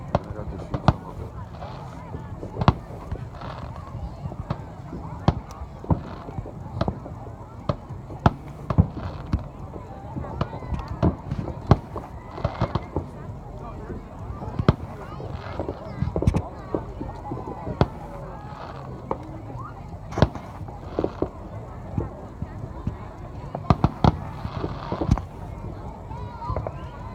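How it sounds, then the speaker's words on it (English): Fourth of July fireworks burst in a rapid, irregular string of sharp bangs and crackles, some close and some farther off, over a constant crowd murmur and nearby voices. "There's fireworks here, 360."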